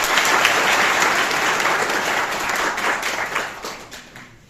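An audience applauds in a college lecture hall at Shibli National College, Azamgarh, with dense, loud clapping that holds steady and then fades out at the end.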